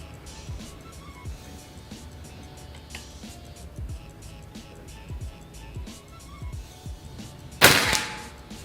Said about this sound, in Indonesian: Kita lanjut untuk tembakan yang kelima.